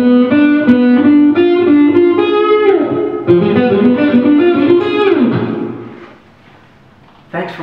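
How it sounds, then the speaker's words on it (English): Guitar plays a lick of diminished arpeggios spaced a minor third apart at a slow tempo, with clear picked notes stepping through each shape before a final chord rings and fades into near silence. "lick is a sequence of diminished arpeggios, a minor third apart."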